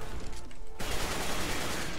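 Video game gunfire bursts out abruptly after a short lull, a dense rattle of rapid shots carrying on to the end at moderate volume.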